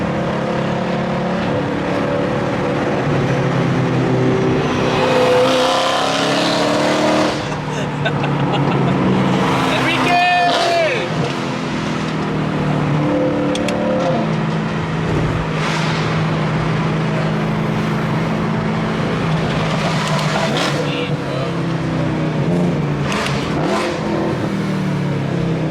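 A BMW M3 at a BMW M car cruise, engine revving and rumbling among other passing cars, with one sharp rising rev near the middle; people chat loudly over the engine noise throughout.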